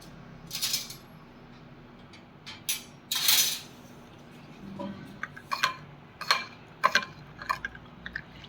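Coriander-cumin powder being mixed into chillies in a pan, a series of scattered spoon clinks and scraping stirs, close and fairly faint, with no voices.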